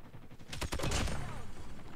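Rapid gunfire bursts in COD Mobile, a dense run of loud automatic shots through the middle of the clip with a sustained layer of game noise behind them.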